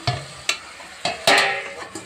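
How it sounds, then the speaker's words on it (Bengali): Pointed gourd fries in a pan with a soft sizzle, broken by several sharp clacks of a spatula stirring at uneven intervals, close and fairly quiet. "তো এবারে ভালোভাবে পটলটাকে ভাজি করে নেব"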